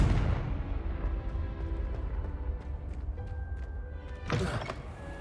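A Confringo spell blast in the video game Hogwarts Legacy erupts as a sharp, loud burst late on, cutting above a dull low rumble and scattered soft clicks.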